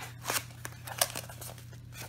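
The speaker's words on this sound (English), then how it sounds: "I'm just going to get in here with my scissors, break that" Scissors snip and crunch through the packaging of a Stampin' Up! Stamparatus stamp placement tool, several short sharp cuts and crinkles close by over a low steady hum.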